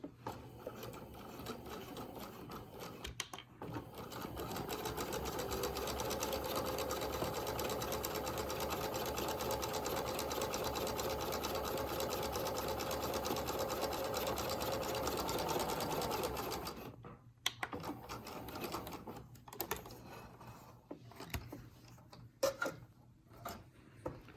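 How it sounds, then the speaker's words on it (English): Sewing machine stitching a plain seam at 5/8 inch through fabric, running as a steady close whirring hum for about thirteen seconds before stopping, followed by soft handling clicks and rustles. "we're going to sew a plain seam at 5/8 of an inch"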